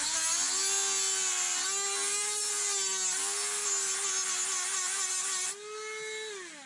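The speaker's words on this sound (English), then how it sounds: "So what I do is I take my Dremel with this little really worn down sanding head, but it works great, is turn it on and just do this." A Dremel rotary tool with a badly worn sanding head grinds an LGB model railway switch, giving a steady, close, high-pitched whine with a grinding edge that drops in pitch near the end, with no voices.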